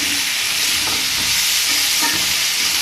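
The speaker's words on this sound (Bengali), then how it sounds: "দেখুন সবজিটা কিন্তু বেশ ভালো করে ভাজতে হবে।" Vegetables fry hard in a pan for bhuna khichuri, a loud steady sizzle close up with the scrape and clatter of a spoon stirring now and then.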